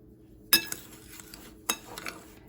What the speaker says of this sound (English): So I'm gonna go ahead and mix up the crust